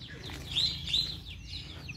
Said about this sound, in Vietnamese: các bạn nghe tiếng kêu của vẹt đầu hồng với vẹt đầu xám đó